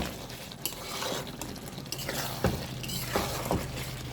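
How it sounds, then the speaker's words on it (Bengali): A spoon scrapes and clinks around a pot of potato curry, with irregular stirring knocks and sharper metallic taps close by, alone without talk. "এটা নাড়াচাড়া করবো, ঢেকে রাখবো"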